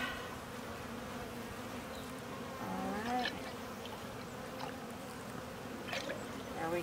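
Honeybees drone around a beehive in a steady, close buzz that runs throughout, with brief rustling and faint handling noises on top.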